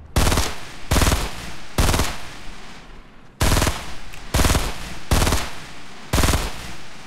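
Rapid automatic gunfire in Fortnite comes in six sharp, loud bursts separated by brief gaps.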